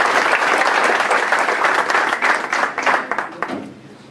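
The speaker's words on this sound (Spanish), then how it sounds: "Un aplauso." An audience gives a round of applause for a city councillor being introduced: loud, dense clapping that thins into scattered individual claps and fades toward the end.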